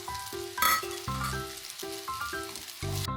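Korean myeong-ran pasta with red chili and black pepper tossed in a hot pan, a close sizzle and fry with scraping stirs and clatter, set against a background of layered music.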